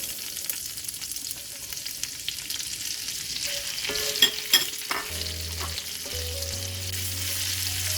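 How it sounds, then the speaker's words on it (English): Bacon and red onion fry in a Dutch oven with a constant crackling sizzle, while occasional stirring clinks sound and a low steady hum comes in toward the end. "I'm going to reintroduce the bacon back into the Dutch oven. I'm adding the red onion."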